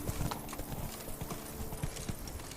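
Horse hooves pound in a steady galloping rhythm in The Witcher 3 video game, a continuous, moderately loud clip-clop over a dense background of game ambience.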